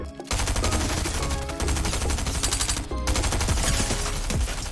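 Rapid SMG gunfire in Fortnite, loud sustained automatic bursts with brief pauses between volleys, mixed with game action sounds and no talk.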